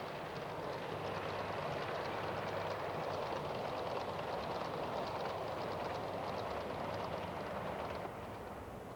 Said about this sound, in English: speeding along on the embankment behind is a Pullman car express